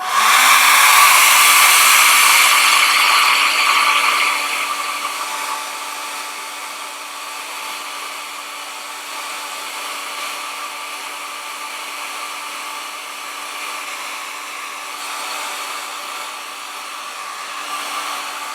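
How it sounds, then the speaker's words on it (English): A hair dryer blows steadily to dry paint, loud at first and then settling into a slightly softer, continuous whooshing hum with no voices. "I'm going to get my blow dryer back out."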